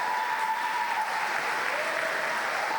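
A church congregation clapping together during a service, a steady, dense wash of applause from many hands at moderate distance, continuing evenly throughout with no break.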